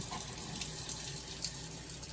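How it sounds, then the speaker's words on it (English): Tap water runs steadily through a length of sheep intestine, a soft, continuous hiss and trickle heard faintly and alone throughout. "I'm going to run some water through it"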